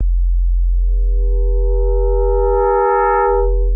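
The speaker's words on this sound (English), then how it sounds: "kind of hear that foghorn sound" A deep Serum 2 synthesizer FM bass tone drones steadily, brightening with buzzy upper harmonics partway through, like a foghorn, loud and alone.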